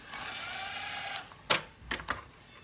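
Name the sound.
power drill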